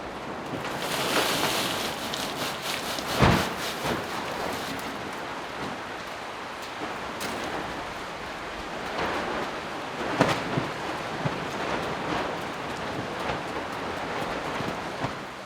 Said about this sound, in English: rain is not letting off